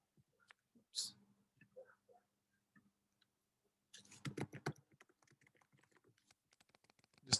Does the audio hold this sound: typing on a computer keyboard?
yes